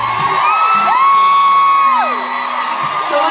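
Packed concert crowd at the Fillmore in Silver Spring cheering loudly, with a long high whoop or whistle soaring over steady applause and shouting that swells and then eases slightly.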